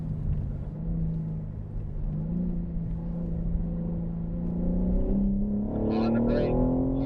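A BMW M3 on a racetrack accelerates uphill, its engine droning steadily and rising in pitch as revs climb, loud and close from inside the car with no talking.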